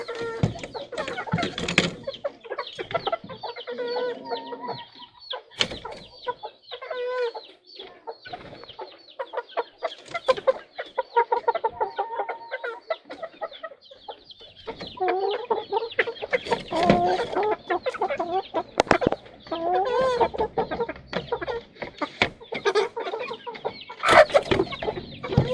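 Pullet hens cluck and squawk continuously at close range, a busy flock with overlapping calls and occasional louder cackles.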